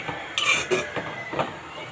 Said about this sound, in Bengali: এগুলো সব এক জায়গায় দিয়ে আমি ভালো করে নেড়ে চেড়ে দেব।